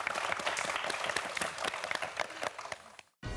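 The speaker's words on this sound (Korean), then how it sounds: "박수 한번 보내주세요" A studio audience on a TV quiz show bursts into steady, dense clapping that holds for about three seconds, then cuts off abruptly.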